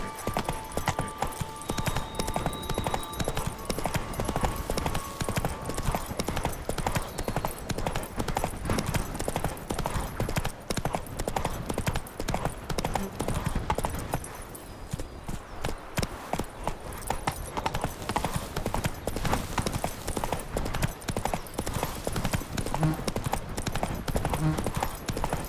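Roach, a horse in The Witcher 3: Blood and Wine, gallops with a steady, rapid clip-clop of hooves running almost continuously at close range, with a brief dip midway and occasional faint game sounds mixed in.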